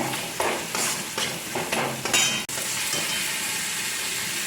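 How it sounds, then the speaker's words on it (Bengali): Chopped tomato and chilli powder sizzle and fry in a pan for a Bengali katla fish and green mango curry, with several scraping stirs of a spatula over a steady loud hiss. "অল্প করে লঙ্কার গুঁড়ো এবার একটু ভালো করে কষিয়ে নেব"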